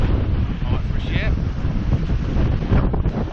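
Strong wind buffets the microphone on a lake shore during carp fishing, a loud continuous roar with waves splashing nearby and a faint voice underneath.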